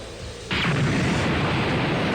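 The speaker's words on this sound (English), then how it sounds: "Suddenly, an explosion rang out from the heart of the city." An explosion in a Dragon Ball video game bursts in suddenly and loud, then rolls on as a sustained, broad rumbling roar with no voices.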